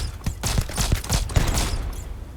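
Rapid bursts of gunfire from a firefight in the space game Starfield, a dense run of close, loud shots fired in quick irregular succession.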